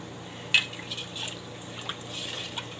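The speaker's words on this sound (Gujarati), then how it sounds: "હવે આપણે આ પાણી નાખશું ખાટું" Sour water is poured into jars of garmar pickle, giving soft trickling and splashing with a few small drips and clinks, fairly quiet with no talking.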